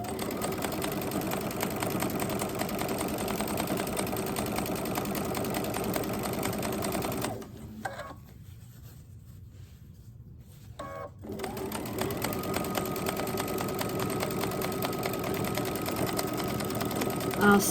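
A sewing machine runs steadily stitching fabric for a door hanger, pausing briefly in the middle before resuming its continuous whirring hum.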